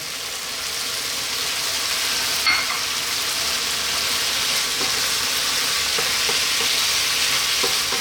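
Okra frying in a pot with broken-down tomatoes and lamb gives a continuous, fairly loud sizzle, with a brief stirring clack early on and soft scraping throughout.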